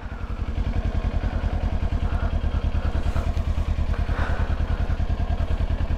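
Kawasaki Ninja 400 motorcycle engine running steadily while riding, a close, loud, even engine drone with a fast pulsing rhythm throughout and no talking.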